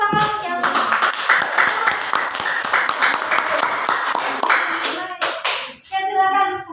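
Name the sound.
group applause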